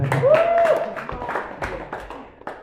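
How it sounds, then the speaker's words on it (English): An audience claps together in a yoga studio in Durban, South Africa: a short burst of scattered hand claps that fades over a couple of seconds, with a faint voice-like tone near the start. "Give a clap."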